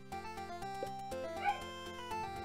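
An excited dog in a Korean Pokémon-style game, with short yippy barks and whimpers repeating in a quick, bouncy rhythm over steady game music, fairly quiet and without talk.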